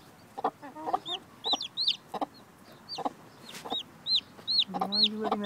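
A hen clucks low and repeatedly beside newly hatched chicks peeping in high, rising chirps, a busy close mix of soft clucks and shrill cheeps throughout.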